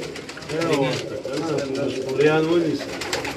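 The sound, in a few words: Firozpuri pigeon cooing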